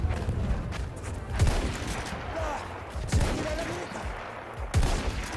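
Gunfire in Battlefield 1 during a Conquest match, three sharp booming shots spaced about one and a half seconds apart over a steady noisy battlefield background, with faint voices underneath.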